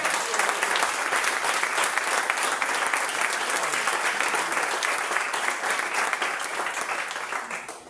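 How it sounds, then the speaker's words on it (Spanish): A church congregation applauds during a Spanish-language sermon, a dense, steady wash of many hands clapping that holds loud for nearly eight seconds before easing slightly at the end. "nuestro Señor Jesucristo, para el cual pido un aplauso."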